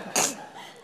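A single short cough, close and fairly loud, followed by quiet room noise.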